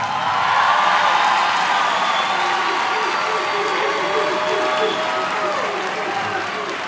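A graduation crowd at a high school ceremony claps for the students, a broad steady roar of hands with scattered whoops and cheers mixed in, holding level throughout.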